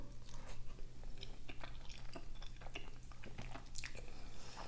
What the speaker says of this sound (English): First bite.